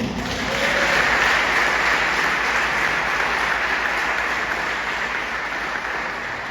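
A steady wash of applause from a large church congregation, sustained and loud throughout with no pauses.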